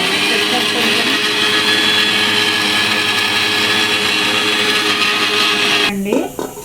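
A mixer grinder grinding sambar powder spices whirs loudly and steadily at close range, then winds down near the end with a brief rattle as the motor stops.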